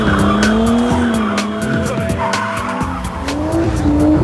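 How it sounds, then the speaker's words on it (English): Cars doing donuts at a world-record attempt with 22 cars keep their tyres spinning and squealing continuously over revving engines, the wavering screeches rising and falling in a loud, close, dense mix. "some were spinning their tyres so much, they exploded with catastrophic results"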